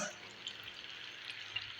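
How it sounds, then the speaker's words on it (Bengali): Rohu fish frying with tomato in a pan, a soft, faint steady sizzle with small crackles throughout, quiet and close. "শুধু টমেটো দিয়ে রুই মাছ এটা ভাজা হচ্ছে"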